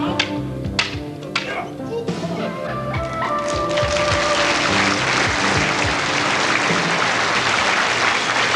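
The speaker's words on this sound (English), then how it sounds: "The crowd responds." Crowd at a 1991 AAU National karate competition breaking into sustained applause that swells from scattered claps and rises to a loud, steady roar lasting several seconds, with some voices mixed in.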